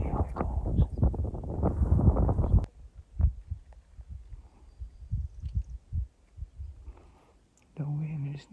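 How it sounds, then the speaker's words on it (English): Wind on a Big Island hillside during a sheep hunt buffets the microphone with a loud, gusty rumble for the first few seconds, then drops to scattered soft thumps and near quiet. "The wind is not our friend today"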